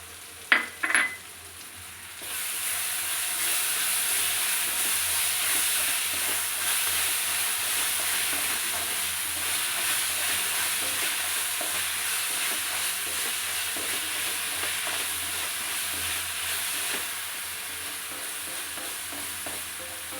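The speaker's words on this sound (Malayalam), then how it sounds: "പകുതി വാടിയ ഉള്ളിയിലേക്ക് നമുക്ക് ഇഞ്ചി വെളുത്തുള്ളി പേസ്റ്റ് ചേർത്ത് കൊടുക്കാം" Ginger-garlic paste hits half-softened onions in a hot pan and erupts into a loud, steady sizzle after a couple of quiet clicks, hissing continuously and close with no talking.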